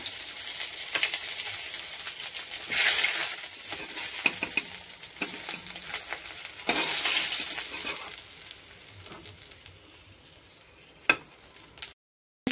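Fried gule and bata fish are lifted one by one out of hot oil, giving a continuous crackling sizzle with louder bursts as pieces come out, plus clinks and scrapes of a utensil against the pan.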